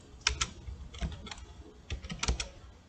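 Typing on a computer keyboard, a few irregular bursts of sharp key clicks close up, with no voices.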